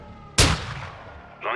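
A single heavy gunshot or mortar blast bursts in the Call of Duty Modern Warfare II campaign, loud and sudden, then decays into a rumbling tail before another shot fires.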